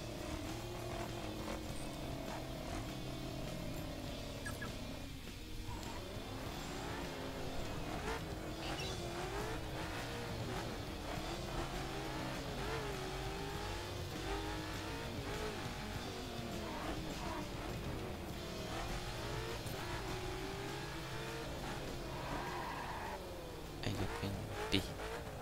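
Engine of a fast sports car in The Crew racing game, a steady loud roar with rising and falling revs and gear shifts, continuous throughout alongside background game sounds.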